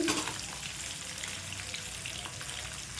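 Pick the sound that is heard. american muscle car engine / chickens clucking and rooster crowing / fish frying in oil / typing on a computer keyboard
fish frying in oil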